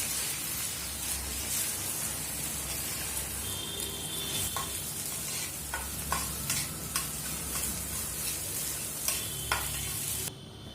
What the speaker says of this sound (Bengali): একটু সর্ষের তেল দিয়ে দিলাম। দুটো ডিম দিয়ে দিলাম। প্রথমেই কিন্তু ডিমের ভুজিয়া করে তুলে রাখছি।